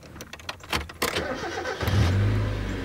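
A car engine cranks with a few quick clicks and churning bursts, then catches and settles into a steady, close idle hum.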